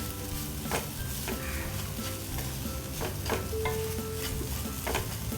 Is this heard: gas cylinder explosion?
no